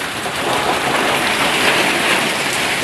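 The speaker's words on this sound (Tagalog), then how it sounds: "Sige pa rin ang ulan." Steady, dense rainfall pours down continuously amid flooding, a broad hiss of drops hitting surfaces with no pauses and no voices.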